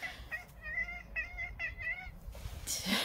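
A cat meows several times in short harmonic cries, fairly close and clear, over faint room noise, with a louder rustle at the end.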